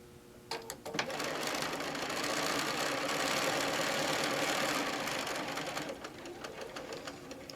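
A sewing machine stitches a narrow seam on a fabric pincushion, starting with a few quick needle clicks before settling into a steady, moderately loud whirring run that slows near the end.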